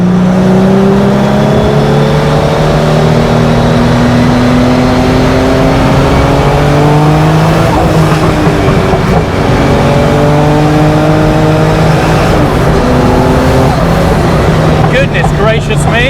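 A GuntherWerks Porsche 911 Turbo pulls hard through rising revs, the engine note climbing in repeated sweeps through gear changes, loud and close from inside the cabin with talk mixed in.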